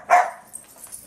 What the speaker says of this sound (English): Three barks, huh?